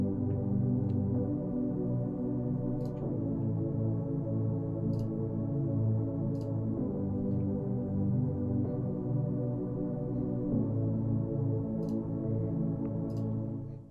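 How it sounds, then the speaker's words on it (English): Filtered synth chords from a melodic bass house intro in Ableton, a chord stack run through Auto Filter for a softer, smoother tone: steady sustained chords changing every few seconds, muffled top end with faint ticks, alone without voices. "So right here, I have these filtered chords."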